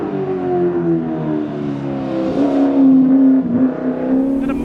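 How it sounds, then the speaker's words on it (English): A 1960s historic Ford Mustang race car accelerates hard on a track, its V8 engine note rising and climbing steadily through the revs, loud and close with no talk. "You just step on the throttle and she just wants to light up the tyres."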